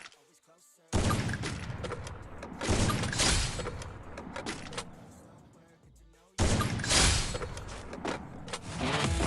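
Two loud sniper rifle shots from the Free Fire battle royale game ring out about five seconds apart, each a sharp crack followed by a long, echoing, rumbling tail.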